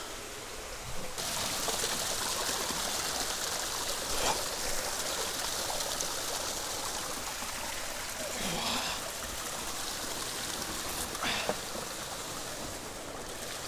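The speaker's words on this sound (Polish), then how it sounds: "Strumień niknął głęboko pod skałami." Continuous rushing water of a stream tumbling over rocks near a cave, steady and fairly close, with a few brief splashes standing out.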